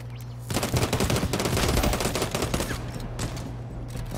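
Gunfire in the video game Hawked: a rapid, loud automatic burst that starts abruptly and rattles on for about three seconds before tapering into a few scattered shots.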